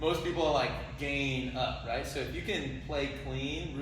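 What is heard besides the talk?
No everyday noise stands out behind the speech.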